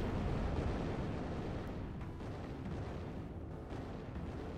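Mistral rockets firing during a Zero-K real-time strategy match, a continuous rumbling barrage of dense overlapping blasts and booms that stays loud throughout with no pauses.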